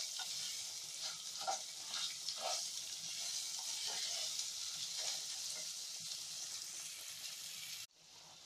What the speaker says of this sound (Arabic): هنزل عليه بصلاية وسط متخرطة وهشوح البصلة معاه كويس